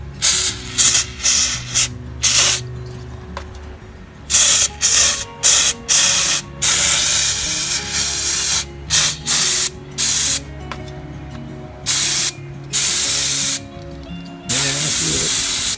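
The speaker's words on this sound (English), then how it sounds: "Using a little brake cleaner here." Brake cleaner hisses from an aerosol can onto a Jeep WJ Dana 35 differential in repeated short, loud bursts separated by brief pauses, close up with no talk.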